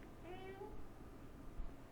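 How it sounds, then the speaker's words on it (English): A hungry house cat meows once, a faint harmonic cry rising and falling over low room noise and soft background rustle. "My cat is hungry."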